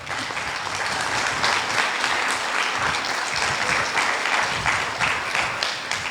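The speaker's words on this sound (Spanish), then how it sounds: "Dale un fuerte aplauso al Señor." A church congregation gives strong, sustained applause, dense clapping filling the room at a steady level with a faint low rumble underneath.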